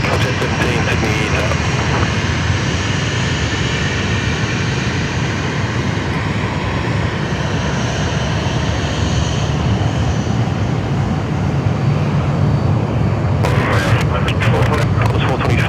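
A jet airliner takes off from runway 16 right at Sydney Airport, its engines a loud, continuous broadband roar that holds steady for the whole stretch, heard from a distance outdoors.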